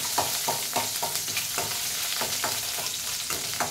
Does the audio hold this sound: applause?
no